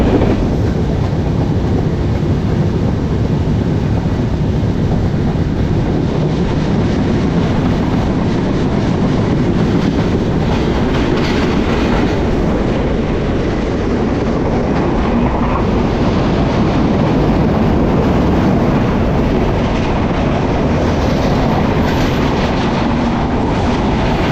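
A Banalata Express train runs along the rail line by Tongi station road, where the Chittagong line branches off, giving a loud, continuous rumble with a steady clickety-clack of wheels for the whole stretch, with no voices.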